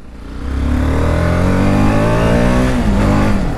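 A TVS Apache RR310 motorcycle engine fires up and revs hard, a loud, steady rising roar with climbing pitch that holds near and close throughout, with no talking.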